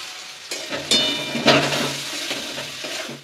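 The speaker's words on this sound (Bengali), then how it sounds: "দেখুন এই পেস্টটা আমি এর মধ্যে দিয়ে দেবো।" A spice paste with Kashmiri chilli powder hits a hot pan and sizzles, a brief close burst of frying with a few scraping stirs and clinks, no talk.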